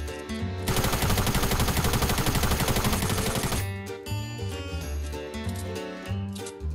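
Rapid automatic gunfire in Fortnite Battle Royale rattles loudly and without a break for about three seconds, then gives way to quieter tonal game sounds.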